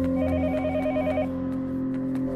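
A telephone rings in the horror video game Yomawari: Night Alone, its warbling electronic tone pulsing in a steady rhythm over a low droning game ambience.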